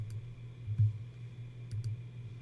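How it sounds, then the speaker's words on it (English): A computer mouse clicks on a Connect button: a few sharp, quiet clicks, one near the start and a pair later, over a low steady hum. "let's go ahead and start the demo by clicking on Connect"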